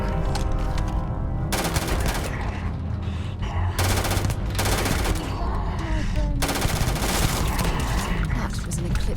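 Video game gunfire fills the scene in near-continuous automatic bursts, loud and close, separated by short pauses with some booming impacts mixed in.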